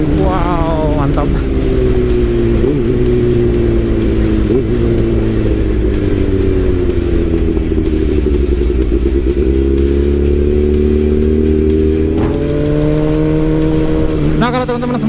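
A Kawasaki ZX636 600cc sport motorcycle runs close by, its engine holding a steady, buzzing drone with a few brief rises as the throttle is blipped open, loud and continuous throughout.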